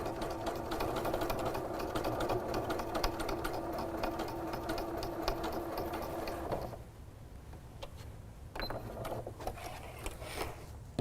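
A sewing machine runs top stitching on woven windowpane fabric with its bobbin thread run out, a steady rapid mechanical whir that stops abruptly, then restarts briefly after a short pause.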